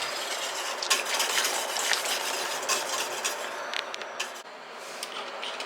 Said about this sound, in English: I am just getting the last of the lids on these jars